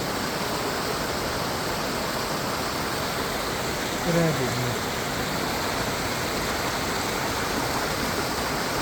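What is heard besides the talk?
distant waterfall on a mountain trail in Greece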